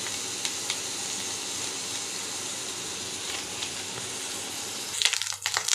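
Eggs fry in oil with a bay leaf in a pan, giving a steady, soft sizzling hiss that runs throughout, with a brief clatter and stirring noise near the end.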